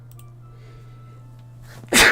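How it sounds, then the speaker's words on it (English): A low steady hum, then one sudden loud sneeze bursts out at the very end. "I'm sneezing because the weather"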